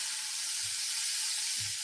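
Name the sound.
sizzle sound effect of barbecue grilling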